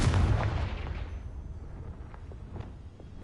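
A Confringo fire spell explodes in the video game Hogwarts Legacy: one loud booming blast at the start that rumbles and fades over about three seconds, with no talk.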